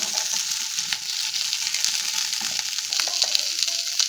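Onion and tomato frying together in a pan, a steady close sizzle with bright crackle running evenly throughout, no voices.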